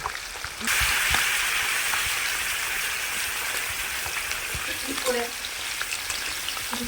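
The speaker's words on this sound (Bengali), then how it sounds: "ভালো করে আলুগুলোকে আগে ভাজতে থাকবে।" Potatoes frying in a pan with salt, turmeric and fish spice give off a loud, steady, dense sizzle that runs without a break, with a few faint stirring scrapes near the end.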